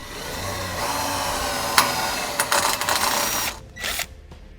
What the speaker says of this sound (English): So I'll go ahead and just drill it out first.